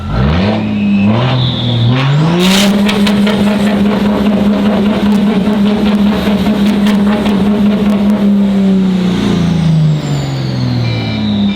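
A 1200-horsepower street truck engine revving hard up to the rev limiter, a loud close roar that climbs, holds at high revs with limiter stutter, then drops back down, with no talk.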